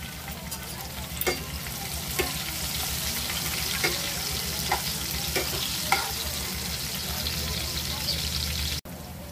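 Cumin and chopped green chillies frying in oil, a continuous moderate sizzle broken by several sharp spoon taps and stirring clicks against the pan, with a brief sudden cut near the end.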